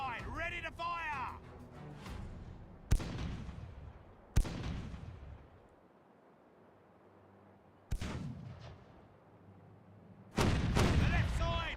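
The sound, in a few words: ship cannons firing in Caribbean Legend video game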